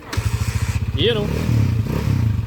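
A motorcycle fitted with a converted 200cc engine idles with a steady, loud chugging pulse close by, and people talk over it.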